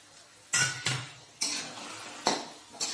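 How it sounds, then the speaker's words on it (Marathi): A spoon scrapes and turns washed potato pieces and peas in a metal cooking pot: five separate stirring strokes, each a sharp scrape that fades, heard close with no talking. "हे व्यवस्थित मिक्स करूया।"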